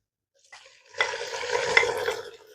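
Boneless chicken and browned onions are stirred in a hot pan: after a brief soft start, a loud, close sizzle swells and holds, with scraping stirs running through it.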